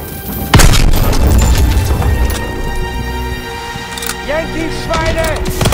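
A loud, close grenade blast booms in Call of Duty: WWII and then rumbles away amid battlefield noise and scattered gunfire, with soldiers shouting in the background.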